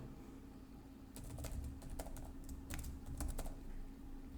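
Username being typed on a computer keyboard: an irregular run of light, quick key clicks over a steady low hum, close and moderately quiet.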